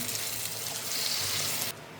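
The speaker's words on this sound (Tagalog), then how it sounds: "Lagyan ng konting tubig." Water poured from a tap into a pan of tomato sauce while cooking: a steady, close hiss of running water lasting under two seconds, then cutting off abruptly, leaving a faint room hum.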